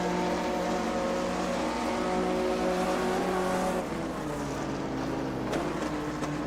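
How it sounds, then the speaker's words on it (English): A 1958 Formula 1 car engine in a racing video game roars steadily close by at Monza, its harmonic drone holding pitch, then dropping lower as it downshifts partway through. "I also hear the BRM close by. There it is."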